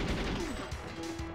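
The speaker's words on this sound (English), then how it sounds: "That's a lot of explosions happening right there." Explosions and gunfire from the GoldenEye 007 shooter game blend into a dense, loud roar of blasts and crashes, with a steady electronic tone running underneath.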